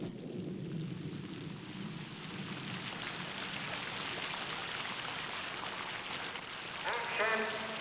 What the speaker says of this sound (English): Can we have the rain, please?